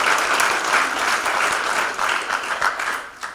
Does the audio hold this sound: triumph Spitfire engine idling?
no